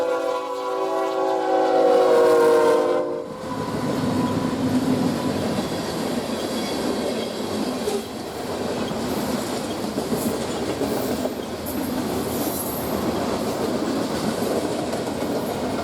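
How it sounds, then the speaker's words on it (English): An eastbound grain train rolls through a large rail yard at dawn in North Platte, Nebraska, with a horn blast at the start followed by steady rumbling and clattering of cars passing close and loud. "Another eastbound is following close behind. This time it's a grain train."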